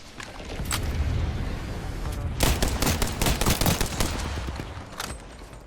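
Rapid gunfire in the video game Apex Legends, loud bursts of automatic shots in quick succession, densest in the middle, with a steady background rumble.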